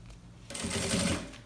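A sewing machine stitches bias binding as a finishing edge on a blouse organiser, starting up after a quiet moment into a fast, steady whirring run, close and clear with no talking.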